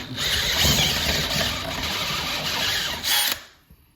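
A power drill reams out a hole during a bathroom vanity installation, a steady loud whirring grind running about three seconds with a brief surge of higher revving near the end before cutting off.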